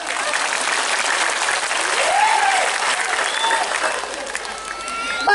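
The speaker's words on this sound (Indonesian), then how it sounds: "Itu tepuk tangan malih dong." Sustained applause from an audience at an Islamic religious gathering (pengajian) in Kebonsari, Madiun, steady and full throughout with a few whistles or cheers rising over it near the middle.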